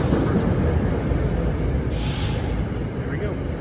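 A steady, loud rumble and rushing roar from an AirTrain ride to Newark Airport, close and continuous with faint hissing swells, the low rolling noise of the rail car filling the whole stretch.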